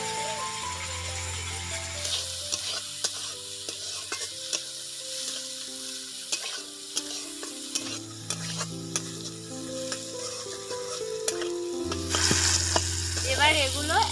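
Chopped tomato and capsicum frying in oil in a pan, a steady sizzle with stirring scrapes and knocks throughout, while a low tonal hum rises and falls in the background.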